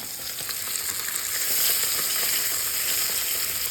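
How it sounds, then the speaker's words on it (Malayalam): Fish fry in coconut oil with curry leaves, a close and steady sizzling crackle with a faint rise in intensity midway, no talking. "നല്ല വെളിച്ചെണ്ണ ഒഴിച്ചിട്ട് നമ്മുടെ മീനുകൾ അങ്ങനെ പെറുക്കി ഇട്ടുകൊണ്ടിരിക്കുകയാണ്"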